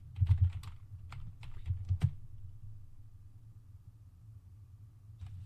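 Fingers type a terminal command on a computer keyboard, producing faint, quick clusters of clicks and taps in two short flurries over a low room rumble.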